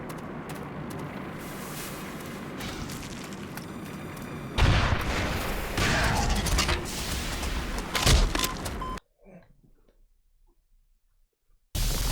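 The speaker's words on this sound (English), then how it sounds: "there's a sound effect that plays whenever a rocket lands" Rocket impacts in the shooter Black Mesa, heavy booming blasts over a dense wash of combat noise, then a sudden drop to near silence before the din returns.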